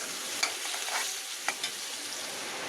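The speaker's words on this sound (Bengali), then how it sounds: "দেখো পেঁয়াজ রসুনটা লঙ্কাটা ভাজা ভাজা হয়ে গেছে।" Onion, garlic and green chili sizzle steadily in a pan with turmeric and salt, with a few sharp scraping strokes of a spatula stirring them, close and clear with no talking.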